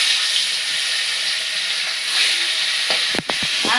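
Hilsa fish sizzles in a little oil in a pan, a close, steady frying hiss broken near the end by a few sharp clatters and crackles.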